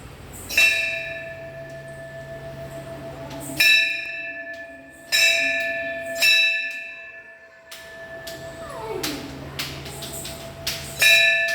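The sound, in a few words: bell ringing at Shri Kholeshwar temple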